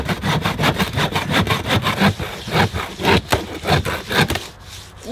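A hand saw rasps through a wooden beam in quick, rhythmic back-and-forth strokes, close and fairly loud, ending with a brief scrape.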